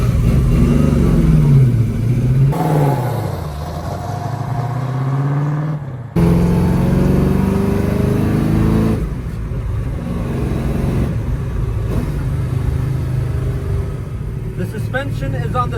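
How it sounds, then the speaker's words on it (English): A 1969 Ford Mustang Fastback pro touring car's engine revs and drones steadily while driving, loud and close from inside the cabin, with a voice talking over the engine throughout. "Very comfortable car to drive."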